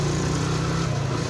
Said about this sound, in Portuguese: eu piloto uma CG Fan 125